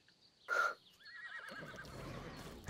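Horse neighing in ARK Ragnarok, one short sharp whinny near the start, followed by softer rustling and movement sounds, fairly quiet overall.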